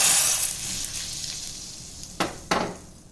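Hot ghee tempering hisses and sizzles loudly as it is added to thuthuvalai rasam, then fades away. Two light metallic clinks follow near the end.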